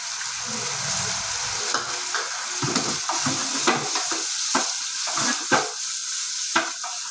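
Capsicum frying in a hot pan while being cooked for a paneer pizza, a steady close sizzle with intermittent sharp crackles and stirring scrapes, no voices.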